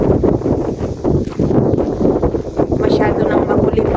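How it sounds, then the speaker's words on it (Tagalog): Strong gusting wind on a Greek island buffets the microphone in loud, rumbling bursts, with a voice talking partly underneath. "At lumalakas na yung mga hangin."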